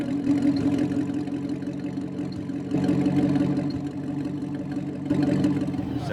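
A 1938 Bugatti 57C, built in Saint-Denis, France, idling at an outdoor concours, a steady mid-pitched engine drone with mild periodic swells in loudness, close by and without voices.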